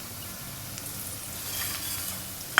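Egg and onion curry mixture with turmeric and salt sizzling in a pan, a soft steady frying hiss with a brief sharp clink at the end.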